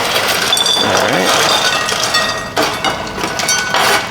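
Baked crispy chickpeas clinking and rattling against a hard container, a loud, busy clatter of many small hard hits that runs continuously with dense jostling bursts.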